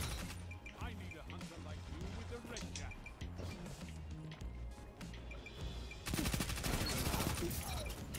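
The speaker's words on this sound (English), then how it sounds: "This is an Adagio SMG" An Adagio SMG fires in Destiny 2 PvP combat, rapid clustered shots amid game effects and talking, building into a louder, denser burst of fire toward the end.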